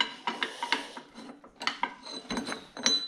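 A metal output flange held in a vise is cut to form teeth, giving close, irregular rasping strokes and scraping clicks with brief pauses in between.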